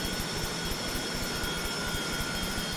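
A jet aircraft engine in a flight simulator game runs at high power, giving a steady, loud, dense roar with faint whining tones above it, unbroken throughout.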